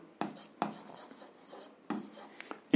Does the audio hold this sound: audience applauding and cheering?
no